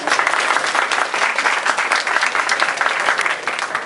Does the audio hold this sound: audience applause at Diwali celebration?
yes